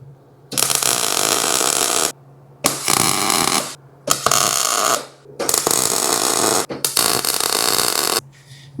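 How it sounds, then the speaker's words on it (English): Tack welds on lower control arm brackets of a 1997 Camaro SS arrive as five close, loud crackling buzzes, each lasting about one to one and a half seconds, separated by brief quiet gaps. "I'm gonna go ahead and do a couple tack welds."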